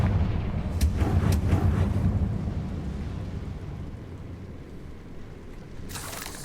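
A Confringo blasting spell detonates in Hogwarts Legacy, a loud booming blast with rumbling low-end debris that trails off over several seconds, followed by a brief crackle near the end.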